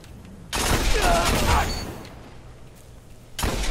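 Bursts of gunfire from a Destiny player-versus-player match crack out in a rapid fusillade lasting about a second, fade, then another burst starts at the end, loud and close.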